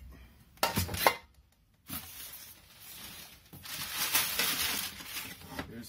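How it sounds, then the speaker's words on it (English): Metal Wilton cake pans handled and knocked together, giving a few sharp clattering clanks near the start, a short pause, then a longer stretch of rattling and scraping metal, all close and moderately loud. "Here's these Wilton cake pans."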